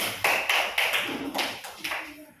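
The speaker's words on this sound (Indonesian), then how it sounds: "Tepuk tangan, silakan kembali ke tempat" A classroom audience claps briefly, about five distinct, evenly spaced claps that sound close and crisp rather than a full ovation.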